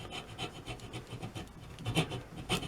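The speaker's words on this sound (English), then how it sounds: "So I'm going to use a hacksaw and cut along" A hacksaw cuts wood on a broken table leg in quick rhythmic rasping strokes, close and fairly quiet, with stronger strokes near the end.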